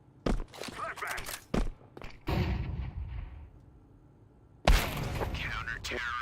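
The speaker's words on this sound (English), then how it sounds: "Flashbang." A Counter-Strike flashbang grenade goes off as a sudden sharp blast late in the clip, preceded by thuds, clatter and a lingering noisy wash, with people talking over parts of it.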